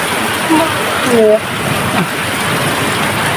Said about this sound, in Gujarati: અરે જો વરસાદ ફૂલ શરૂ છે